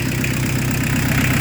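A Peugeot 205 turbo diesel engine idles steadily at close range, a loud, even low rumble with a faint knocking clatter and no voices.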